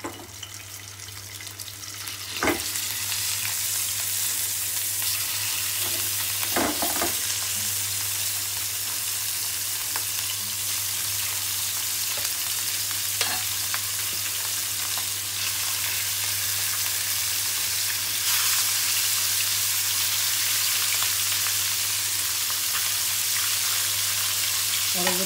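Rohu fish pieces going into hot oil in a pan for a tomato bhuna, giving a loud, steady, unbroken sizzle with a few sharp clinks near the start.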